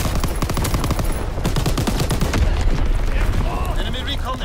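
Incoming enemy artillery pounds the area in Call of Duty: dense, loud bursts of rapid gunfire and booming explosions run continuously, with a voice speaking over the barrage.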